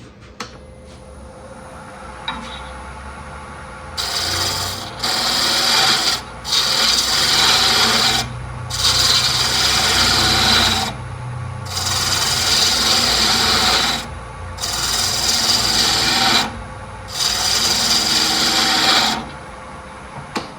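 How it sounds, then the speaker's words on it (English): A spindle gouge cuts a small wooden bud vase spinning on a lathe, giving loud sustained rasping bursts of several seconds each, separated by short pauses, close up with no talk. "I think I'll just use a spindle gouge."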